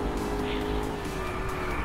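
A car in a racing video game skids and spins out, with a continuous tire squeal over a droning engine that holds steady and loud for about two seconds, no voices.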